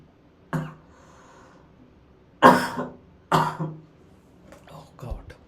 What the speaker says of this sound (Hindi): खांसी आ रही है, 2 मिनट